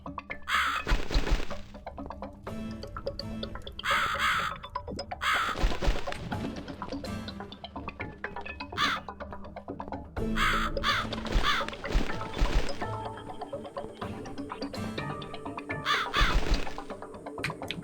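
A crow caws repeatedly in harsh bursts in the horror game The Cat Lady, over eerie droning music with occasional thuds and cracks, loud and close throughout.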